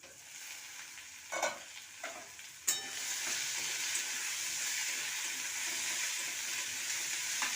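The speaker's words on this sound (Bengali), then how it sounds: "আলুটাকেও একটু লাল লাল করে ভেজে নেব।" Potatoes fry in oil in a pan for a Bengali ridge gourd, potato and prawn posto dish, giving a steady close sizzle with a few louder stirring scrapes near the start.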